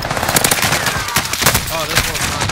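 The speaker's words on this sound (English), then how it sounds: "Oh, they're shooting." Rapid automatic gunfire in a shooter video game, dense overlapping bursts filling the whole moment, loud and close.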